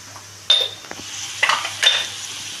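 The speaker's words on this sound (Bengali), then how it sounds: "এবারে এটাকে আমি ভালো করে নাড়াচাড়া করে নিচ্ছি।" Chicken hakka noodles tossed and stirred in a pan with a metal utensil, several sharp scraping clanks against the pan over a faint background hiss, close and distinct.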